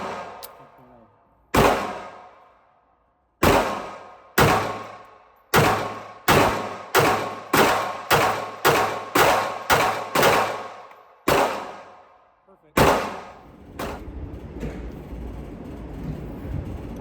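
Smith & Wesson Bodyguard 2.0 pocket pistol fired through a magazine: about a dozen sharp, loud shots, spaced at first then in a quicker steady string with ringing decay, ending in a last shot and background rustle.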